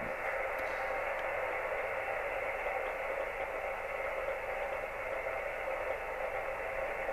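Amateur radio receiver on a magnetic loop antenna tuned about 16 kHz off the loop's 7 MHz frequency, giving a steady, faint hiss of band noise that holds evenly throughout with no voice.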